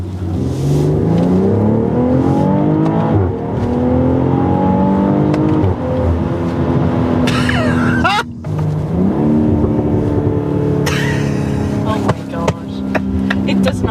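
A BMW X3 M40i SUV engine revs hard through rising and falling gear changes, loud and close, with a brief drop in between pulls.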